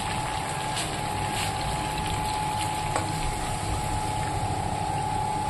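Water is poured into a pot of cooking chicken curry made with local chicken, giving a steady, continuous gushing wash at moderate level with no pauses.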